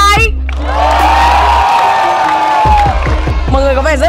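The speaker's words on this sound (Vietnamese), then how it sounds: "Ai cổ vũ cho bạn nam ở ngoài cùng thì vỗ tay." A crowd at a cosplay game event cheers, whoops and claps loudly for a contestant standing at the outer end, a sustained burst of shouting and applause over background music.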